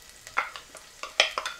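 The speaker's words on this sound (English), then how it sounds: "Nice sizzling sound." Short bursts of crackling and sputtering from onions frying in hot oil, uneven pops and stirring scrapes close by, with no voices.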